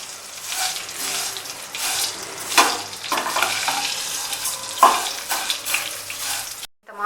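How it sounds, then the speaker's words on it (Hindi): Sweet vermicelli (sewaiyan) fries briefly in a pan, its soft sizzle broken by scraping stir strokes and clatter, close and uneven, ending in a short moment of silence. "थोड़ा सा बस इसको फ्राई करना है।"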